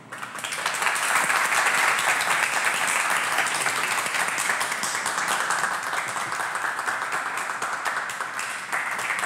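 Sustained audience applause fills a classroom at the close of a religious lesson, a dense steady clapping that swells quickly and holds for about nine seconds with no talking over it.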